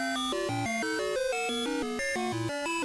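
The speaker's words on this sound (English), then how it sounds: "the entire main menu theme song is randomly generated musical garbage" Sega Genesis game Crazy Bus main menu theme: randomly generated synthesized music, a jumble of short bright electronic notes hopping unpredictably in pitch at a quick, steady pace.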